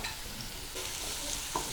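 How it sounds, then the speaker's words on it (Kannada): Sliced onions fry in a pan as part of a chicken liver fry recipe, giving a faint, steady sizzle with a couple of brief stirring scrapes. "ನೋಡಿ, ಇವಾಗ ಆನಿಯನ್ ಎಲ್ಲ ಫ್ರೈ ಆಗಿದೆ."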